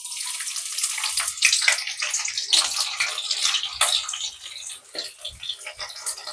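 Chopped onions hit hot oil in a pan for tempering while making paneer tikka masala, giving a bright, crackling sizzle that stays loud and close, easing slightly near the end, with no talk.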